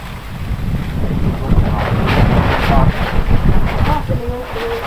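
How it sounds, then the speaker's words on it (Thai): Strong wind buffets the microphone outdoors in a rural village, a loud continuous rumbling roar with gusting swells, and faint sounds of other activity in the background. "ลมแรงวันนี้ลมแรงเนาะ ลมแรงมากเลยวันนี้"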